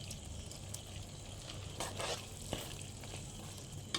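Ground masala being stirred into a simmering country mushroom curry in a pan: a soft, low sizzle with a few scraping stirs and light clinks, quiet and close.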